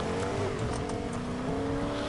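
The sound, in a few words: car driving and engine revving in Fortnite video game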